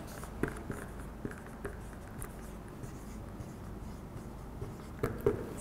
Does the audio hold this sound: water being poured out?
no